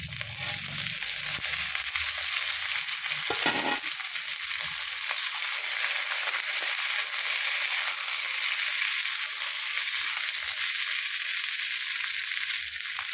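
Vegetables going one by one into hot tempered oil for a mixed vegetarian sabji, with a steady bright sizzle throughout and a brief clatter of something dropped in early on.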